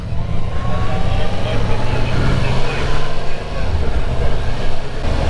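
A Yamaha MT-10 SP naked motorcycle runs steadily while being ridden, its engine a continuous low drone mixed with strong wind rush. The roar holds at an even, loud level the whole time with no clear revving changes.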